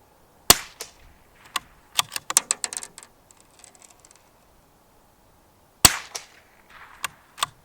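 Rifle shots fired through a Crimson Trace Hardline Pro 16x50 scope, sharp loud cracks at irregular intervals, two heavy reports standing out among quicker snaps and faint mechanical clicks, with no talking.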